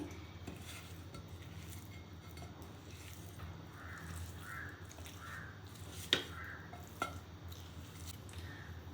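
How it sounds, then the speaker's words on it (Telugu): Dates stirred and fried in ghee in a pan for dry fruit laddu: a steady soft scraping and squishing under a low background hum, with two sharp utensil clinks against the pan near the end, no talking. "డేట్స్ని అయితే ఫ్రై చేసేసుకుంటున్నాను ఇది మొత్తం గీలో కలిసే విధంగా అయితే కొంచెం ఫ్రై చేసుకోండి"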